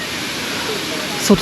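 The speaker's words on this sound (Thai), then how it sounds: "คนเขาคุยกันพูดกันว่าน้ำตกคลองลานสวย" Khlong Lan waterfall in Kamphaeng Phet, Thailand, a steady broad rush of falling water throughout, with a short bump of handling noise at the end.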